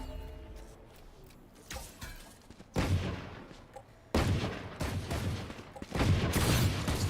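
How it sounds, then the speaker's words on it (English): Sheriff pistol shots in the Valorant video game, on the Ascent map, a few sharp, loud reports spaced seconds apart over a background of other in-game combat noise. "A couple stray sheriff shots, trying to see any kind of random hit that they can get"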